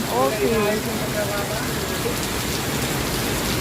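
Heavy rain pours onto a house roof in a dense, continuous hiss, with a person speaking briefly near the start.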